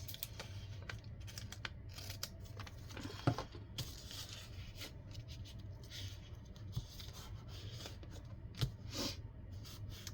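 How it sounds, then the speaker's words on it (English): Scissors snip through paper while a Victorian botanical junk journal is being trimmed, giving a few soft, close crisp cuts over a low steady background hum, with no talking. "I'm just going to cut this off."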